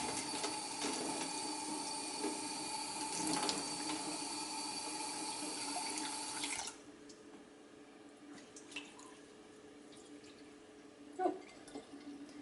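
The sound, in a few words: water draining from rinsed red lentils in sink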